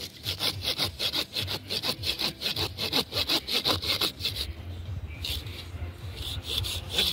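A small hand saw cuts through leftover pine wood outdoors in steady back-and-forth strokes, close and loud, with a brief pause before the rasping resumes.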